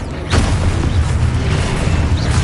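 An Expulso explosion spell in the Hogwarts video game gives a single booming burst near the start, followed by a sustained rumbling roar that carries on to the end with no voices.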